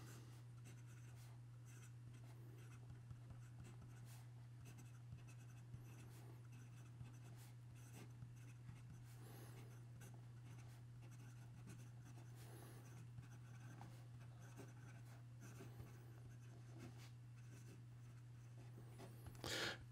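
A fountain pen with a stub nib, a Narwhal Grand Rhapsody, scratches across paper in a continuous soft rasp of strokes with small pauses, faint and close, over a steady electrical hum, with no talking.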